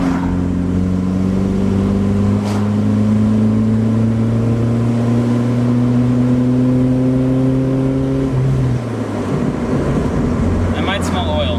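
A loud 1992 Volvo 240 engine drones and climbs steadily in pitch as it accelerates, then drops abruptly with a gear change before pulling again.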